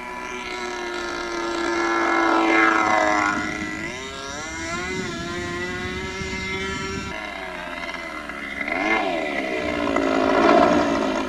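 A remote-control F-16 model jet engine roars and whines as the small aircraft sweeps past, the pitch sliding up and down with each pass, loud and continuous.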